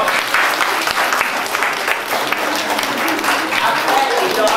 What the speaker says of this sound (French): On peut les applaudir déjà très très fort.